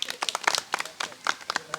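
Students clap for a second-place pupil at a government school results celebration in Khanda village, Jind, Haryana; a small group's sparse, uneven claps come close and fairly quiet, with a voice murmuring underneath.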